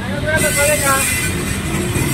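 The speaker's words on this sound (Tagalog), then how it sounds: "May mga nakakadaan ng mga motor ayan o." Motorcycles pass along a road in Bulacan in the Philippines, a close, loud engine drone mixed with general traffic noise, while a person talks over it.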